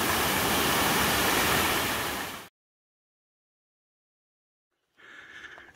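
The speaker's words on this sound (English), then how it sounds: "It goes all the way down through there to a gushing river." Rushing water from a falls feeding a gushing river, a loud, steady broadband roar close by that cuts off abruptly, followed by silence and then a fainter return of the rush.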